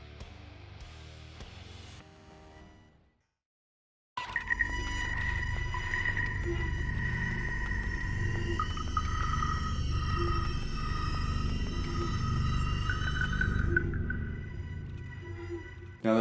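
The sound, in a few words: industrial factory atmosphere, metal clanking and buttons pushed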